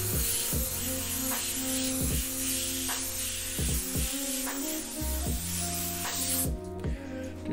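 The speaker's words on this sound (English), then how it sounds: "I'm gonna do some right-handed airbrushing" An airbrush spraying paint onto a T-shirt, a steady hiss over a compressor hum, broken by repeated short bursts and clicks as the trigger works, close and alone.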